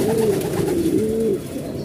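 A female pigeon gives one close, clear, rolling coo that lasts just over a second before fading into quiet room noise.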